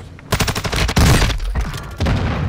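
A loud, close burst of rapid automatic gunfire from Call of Duty: Modern Warfare II, several rattling volleys with booming low-end impacts overlapping almost without pause.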